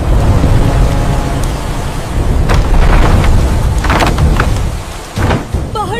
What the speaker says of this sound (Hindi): बाहर तूफान है